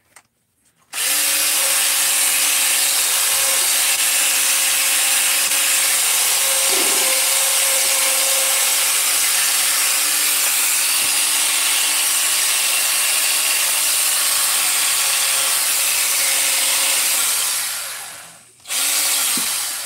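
A Scotch-Brite pad on a spinning mandrel whirs steadily and loudly for about seventeen seconds with a constant abrasive hiss, then winds down briefly near the end, with no voices.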